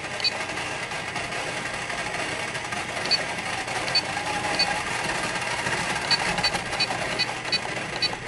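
A steady, buzzing motor whine from an RC car spinning its wheel under throttle control. The drone is continuous and fairly loud, with faint ticking running through it and no speech.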